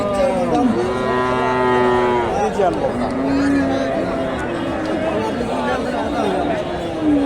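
Cattle moo repeatedly, long drawn-out calls rising and falling over a busy crowd murmur and chatter at an outdoor cattle market selling Friesian heifers.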